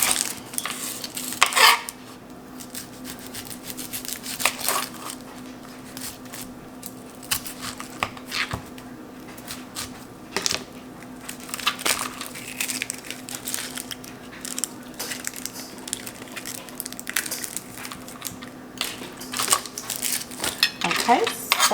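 An onion is sliced very thin on a cutting board, giving repeated sharp knife taps and scrapes in an irregular rhythm at close range against a steady background hum.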